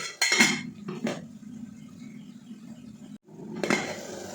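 A plate set down over a cooking pan gives a few close clinks and a ceramic clatter at the start, then a quiet simmering hum and another scrape of dishware near the end.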